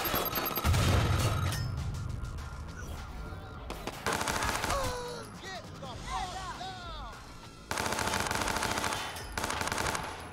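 Gunfire in the Watch Dogs 2 video game, with loud bursts of rapid shots and blasts mixed with game sound effects and music, continuing through most of the stretch.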